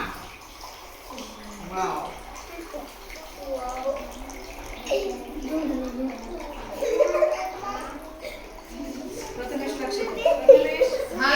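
Water pours out of holes in a plastic bottle in streams, making a soft, continuous splashing and trickling under near-constant talking.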